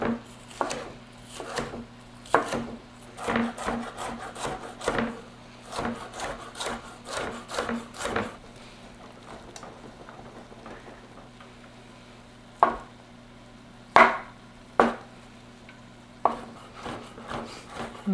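A chef's knife chops olives and other pizza casserole ingredients on a wooden board, a quick run of sharp, close knocks that slows to a few isolated cuts after a pause, with a faint steady hum underneath.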